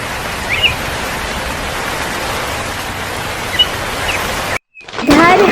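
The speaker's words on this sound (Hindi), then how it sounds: "इधर जंगल में भी बहुत तेज बरसात होने लगती है।" Heavy rain pours steadily in a cartoon jungle, a dense continuous hiss that holds for several seconds before cutting out abruptly, followed by a brief different sound.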